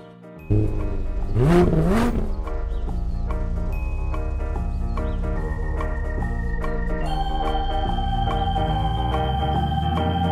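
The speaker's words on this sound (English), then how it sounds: "Just bought this uh, new Lamborghini here. It's fun to drive up here in the Hollywood Hills." A Lamborghini in the video game Unturned drives through the Hollywood Hills, its steady engine drone holding a constant pitch that steps up higher near the end, loud and close, with a brief swooping sound near the start.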